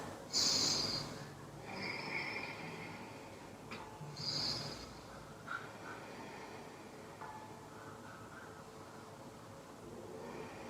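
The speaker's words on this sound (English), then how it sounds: "Let's take a few deep breaths here." Deep, slow breathing during a half happy baby pose in a hatha yoga session: a few soft, airy inhales and exhales close to the mic, the strongest near the start, with quiet room hiss between.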